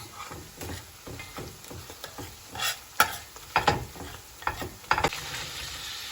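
Minced meat with pepper paste and tomato paste is stirred in a pan, giving quiet sizzling frying beneath irregular scraping strokes of a utensil against the pan, with several sharper clicks and scrapes.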